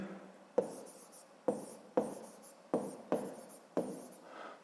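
A pen writing in a notebook, seven short scratching strokes close by, each a sharp onset that fades quickly, spaced at uneven intervals in quiet.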